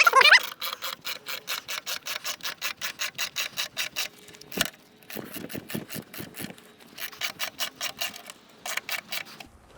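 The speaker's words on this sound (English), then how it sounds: "I can feel we've got a bit of weight happening on the jack now." A car jack ratchets to raise the rear wheel of a car, giving rapid regular metallic clicks in several bursts with one brief pause, close and fairly loud with no talking.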